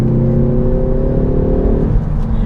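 A Ford Focus ST engine pulls hard under acceleration, a loud steady drone whose pitch climbs and then drops near the end as the revs fall, heard close from inside the car with no talking.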